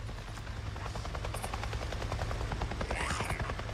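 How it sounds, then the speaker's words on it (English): Steady rotor chop of a helicopter in the video game Days Gone, with a low droning hum, continuous and fairly loud, with a brief high whine near the end. "There's a helicopter."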